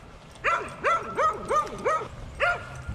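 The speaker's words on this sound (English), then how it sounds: "I got caught by surprise with that dog" A dog on a leash walk barks at a passing Great Dane, letting out about six sharp, yelping barks in a quick, uneven series, loud and close, with no voices.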